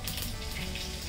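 Cumin seeds, red chili and curry leaves hit hot oil in a pan for rasam tempering, giving a loud, close, steady crackling sizzle.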